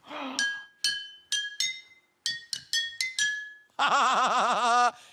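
Glass bottles tapped one after another in a short melodic run, bright ringing pings, then a longer sustained warbling glassy tone at the end.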